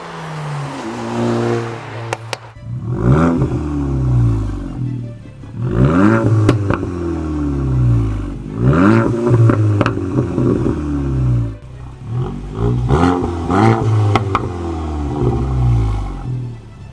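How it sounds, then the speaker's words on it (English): A Volkswagen Golf GTI Mk8 engine in sport mode revs repeatedly in bursts, each rise followed by sharp popping and crackling bangs from the exhaust, loud and close. "when you put this car into sport mode, it pops and it bangs"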